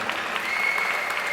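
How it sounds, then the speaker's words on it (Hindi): A crowd at a Mr & Miss Hindustan pageant applauds the contestants in a brief, even burst of clapping. "सबसे ज़्यादा तालियां इनके लिए हो जाए कंटेस्टेंट्स के लिए"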